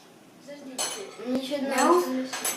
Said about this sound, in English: And now I have to mix it up.